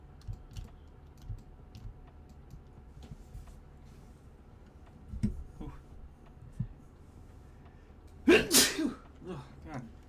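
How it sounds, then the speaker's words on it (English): A single sharp sneeze bursts out near the end, loud against a quiet room where soft computer keyboard typing and small desk taps sound faintly throughout. "I tried to sneeze as far away from the mic as I could"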